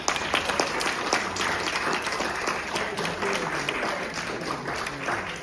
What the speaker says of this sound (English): I just want to give a big applause to people, everybody.